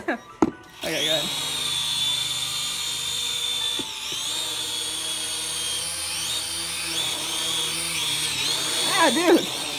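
A power drill whines steadily at a high pitch for most of the stretch, briefly dipping once, with a sharp knock near the start and faint voices underneath.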